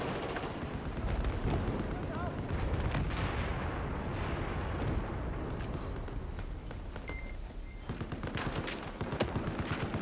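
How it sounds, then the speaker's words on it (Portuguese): Rapid bursts of gunfire, including sniper fire, crackle continuously in Battlefield 4, with sharp shots and echoing blasts throughout, no voices over them. "Eu tô levando tiro de sniper da onde"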